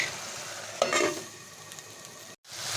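Potato and pumpkin curry cooking in a pan, fried potatoes just added to the masala, giving a steady close sizzle with a brief stir scrape near one second and a short break before the frying resumes.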